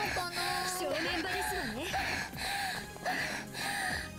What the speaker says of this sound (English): Oh my, why is she panting?